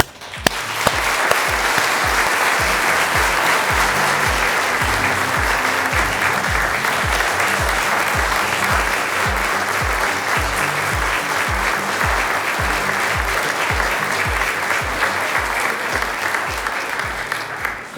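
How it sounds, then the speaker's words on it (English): At a postgraduate academic awards ceremony, an audience applauds the graduating class with loud, sustained clapping that runs steadily for the whole stretch, underpinned by a regular rhythmic low beat beneath the dense claps. "I now invite you from all around the world to join me in offering a round of applause"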